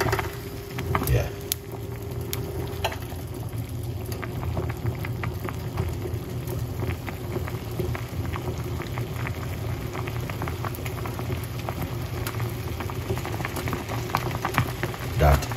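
A pot of orange, lemon, ginger and turmeric simmers at a steady rolling boil, giving a continuous close bubbling hiss with small pops throughout.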